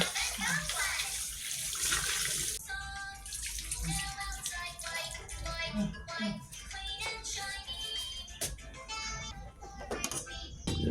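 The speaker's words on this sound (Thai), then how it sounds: "แล้วก็ล้างน้ำเปล่าออกจากสามสี่น้ำเนาะ" Food being rinsed in plain water several times, with splashing and running water close by, while a person talks over the sloshing.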